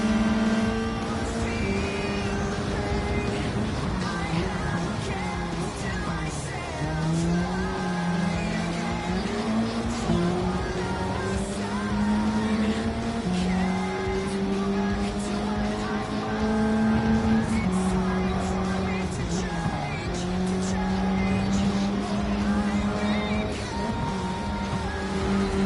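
Race cars in Gran Turismo 7 scream around the track, engines rising and falling through gear changes while several cars run close together. The roar is loud and continuous for the whole stretch, with a voice talking over it at times.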